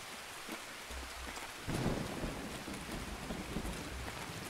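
Heavy rain patters steadily in the video game Escape from Tarkov, with a low thunder rumble breaking in partway through and lingering under the downpour, fairly faint overall.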